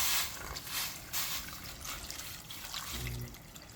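Water poured into a pot of pinto beans with garlic being prepared for pressure canning: a steady, fairly loud splashing rush that continues for several seconds, with a low rumble near the end.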